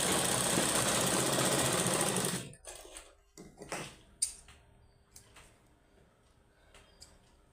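A sewing machine stitches socks made from an old sweater, running in a fast loud whir for about two seconds before stopping, followed by scattered clicks and handling taps of the machine.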